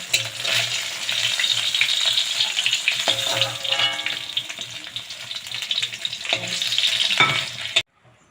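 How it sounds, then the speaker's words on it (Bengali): Steady, loud sizzling of rohu fish frying in hot oil, crackling continuously before stopping abruptly at the end. "মাছটা আমি ভাজতে দিয়েছিলাম, দেখছো ভাজাটা আমার প্রায় হয়ে গিয়েছে"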